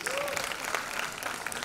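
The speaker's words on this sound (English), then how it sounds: "A big round of applause for all these sponsors." Crowd clapping at a 2018 women's empowerment awards evening, a sustained dense roar of applause with some cheering mixed in, fairly loud and unbroken from start to finish.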